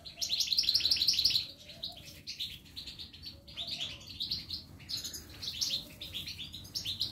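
Goldfinch chicks being fed by syringe inside a cage chirp in rapid high bursts, one loud sustained burst first, then repeated shorter chirping spells at close range with no talk.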